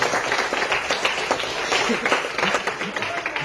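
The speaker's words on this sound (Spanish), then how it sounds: "Regale la ofrenda de palmas a aquel que vive y reina para siempre" A church congregation claps steadily together as an offering of praise during a Spanish-language sermon, the dense patter sustained and even throughout.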